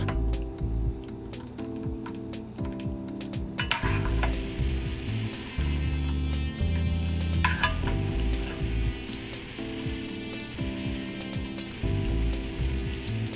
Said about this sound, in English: Stir that around and eventually you'll see the milk solids separate out.